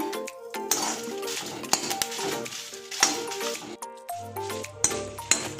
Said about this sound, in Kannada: ಈಗ ಒಣಮೆಣಸು ಹುರ್ದ್ಕೊಳ್ತಾ ಇದ್ದೀನಿ